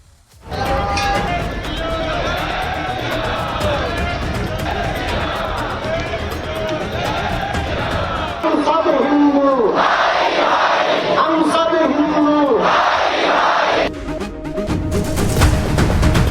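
A large crowd of thousands on a Hindu unity pilgrimage march roars and chants together, loud and close, with a dense babble of voices that grows to louder collective shouts toward the end.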